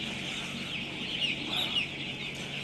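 Seven-day-old farm chickens call continuously in a dense, steady chorus of high peeping and clucking. The sound is close and even, with no talking.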